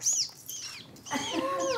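A human voice imitates a mother seagull's call with high, bright squawks in two bursts: a short cry first, then a longer wavering squeal after a brief pause.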